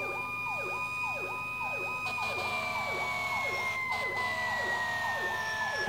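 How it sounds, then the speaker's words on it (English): A fire engine siren's power call plays in the emergency-response game EmergeNYC, with repeating rising-and-falling whoops over a high steady tone. It is continuous and evenly loud, and loops unnaturally. "Raph didn't even do the power call siren right"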